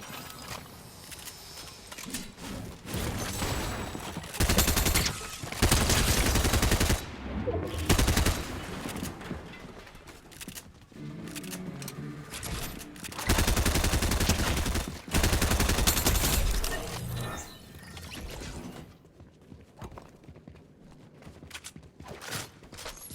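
Thermal DMR gunfire in Fortnite comes in dense bursts of loud, rapid shots, some stretches near-continuous, separated by brief lulls of lighter game noise.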